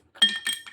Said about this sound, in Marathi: थोडं ह्याच्यात बर्फ घालायचा आहे चार पाच